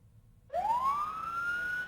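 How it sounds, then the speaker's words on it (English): An ambulance siren starts abruptly as it pulls away from a mock crash scene, a single rising wail that climbs and holds, loud and clear with nothing else around it. "the sound of an ambulance leaving the site of a crash"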